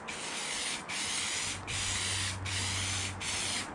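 Spray gun laying base coat on a car panel: steady, close hissing spray in several bursts separated by brief pauses, with a low hum underneath.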